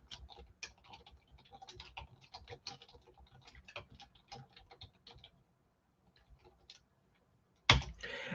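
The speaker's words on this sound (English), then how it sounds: "I'm going to type that in here for right now" Quick, uneven clicking of keys on a computer keyboard, close and fairly quiet, runs for several seconds, thins to a few scattered taps and then stops, followed by a short louder bump near the end.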